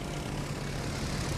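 A propeller torpedo plane in World of Warships Legends, flying in toward a carrier battle: a steady, droning aircraft engine roar, continuous and fairly close, alone without talk.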